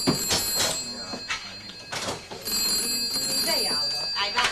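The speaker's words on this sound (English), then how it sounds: "Rat, telephone's ringing." An old telephone bell rings in a pub in 1973, sounding in repeated bursts under overlapping talk from several people nearby.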